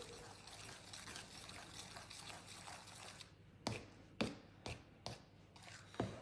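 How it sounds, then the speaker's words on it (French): Potato waffle batter with flour is stirred in a bowl, a soft wet churning followed by several distinct clacking strokes of the utensil against the side, fairly quiet and close. "Je mélange le tout."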